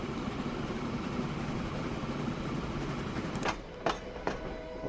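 A train in the video game Transport Fever 2 runs along with a steady rumbling roll and clatter of wheels, followed by a few sharp clicks near the end.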